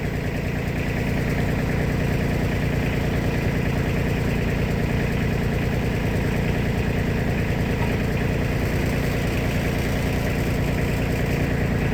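A Cub Cadet 2072 lawn tractor engine idles close by, a steady low mechanical rumble holding evenly throughout with no voices.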